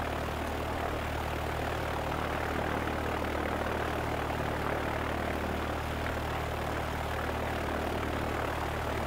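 Cessna 172 single-engine propeller plane at full power in a steady takeoff climb with one person aboard, its engine drone loud, close and constant, with no talk.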